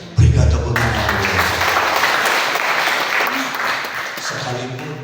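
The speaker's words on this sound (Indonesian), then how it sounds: "Berikan tepuk tangan" A church congregation bursts into applause during a sermon: sustained, dense clapping from a large crowd that rises sharply and holds for several seconds, with a voice speaking at the start and end.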